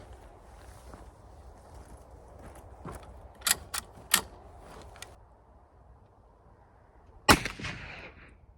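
A Taylors revolver loaded with 240 grain bullets fires at an outdoor range: a few sharp, separated cracks, the last loudest, over quiet background rustle.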